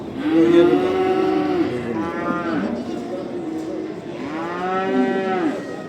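Calves at a cattle market in Barda low out repeatedly: loud, close moos in long drawn-out calls, one after another over a steady hum of the market.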